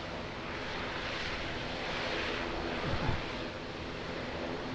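Dash 8 turboprop aircraft at Auckland Airport, a broad steady roar heard at a distance, with wind noise on the microphone and a slight swell near the end.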